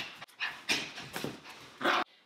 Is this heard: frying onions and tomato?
no